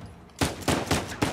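Shots in the Uncharted 4 video game: four sharp, loud gunfire bursts at fairly even intervals after a quiet start, each with a short ringing decay, no talk over them.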